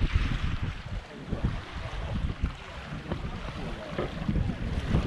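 A sailboat moving under sail at two to three knots off Menorca, with steady wind rushing across the microphone and water washing along the hull, continuous and fairly loud throughout.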